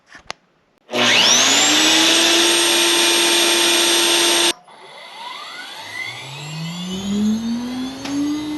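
A loud high-pitched router spindle in a router table whines as it spins up, holds steady for a few seconds, then cuts off, followed by a quieter spindle ramping up in pitch.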